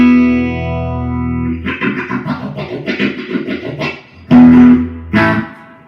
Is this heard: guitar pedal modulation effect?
yes